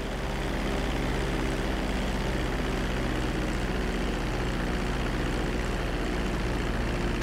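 Steady, loud engine drone of a plane on its landing approach to a runway in the GTA 5 video game, a continuous hum with a low tonal band that holds without break for the whole stretch.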